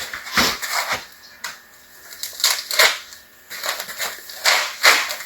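Sharp repeated bangs of a pool noodle safety marker being knocked down onto a post end, irregular hits spread across several seconds, close and fairly loud.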